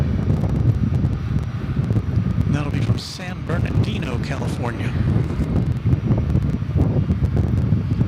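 Constant blustery night wind roars against the microphone at DFW Airport while someone speaks over it.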